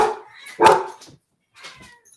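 A dog barks loudly at a cat indoors, giving two or three sharp, close barks with short pauses between them.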